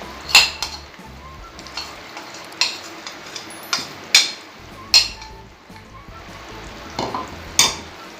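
Semolina for Pakistani makhandi halwa is stirred in a pan over low heat, with a soft frying sizzle throughout and repeated sharp scrapes and clinks of the spoon against the pan at an irregular pace.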